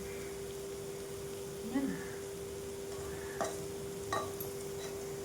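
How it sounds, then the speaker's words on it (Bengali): Lentil fritters frying in oil give a soft, steady sizzle, with a few brief clinks and faint voices in the background. "এখন বড়া ভাজছি"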